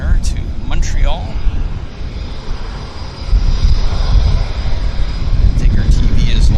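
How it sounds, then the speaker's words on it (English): A Porter Embraer jet departs Vancouver airport for Montreal as a rumbling engine roar that swells in the second half, with people talking and brief whistles over it. "Next departure is Porter to Montreal, Embraer"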